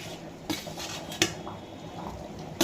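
Fried tomato being pounded into an already crushed mixture in a mortar for drumstick-leaf sambar: a few sharp, knocking strikes spaced apart over a steady low background, with no talking.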